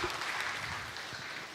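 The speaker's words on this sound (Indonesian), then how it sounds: "kita beri tepuk tangan untuk Santo Giorgio Frassati" Audience applause for a saint at a church youth session, a soft, even patter of many hands clapping that fades slightly toward the end.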